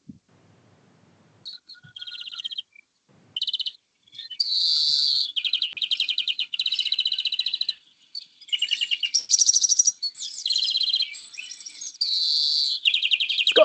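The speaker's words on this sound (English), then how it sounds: "It gets that twittering and that sudden wheezy sound. It's something that I'm sure many of you are familiar with." A Eurasian greenfinch sings a high, clear song of rapid twittering trills and buzzy wheezes in repeated phrases, with short gaps between bursts and no voices.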